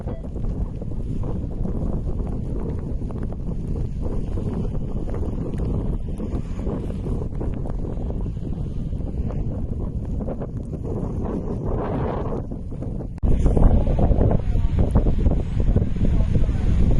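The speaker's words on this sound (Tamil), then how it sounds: "அந்த காற்று அப்படியே நல்லா சொண்டு அடிக்குது." Strong wind blows during a snowstorm in Canada, a steady, dense roar that stays loud throughout and surges slightly stronger near the end, with no clear voices.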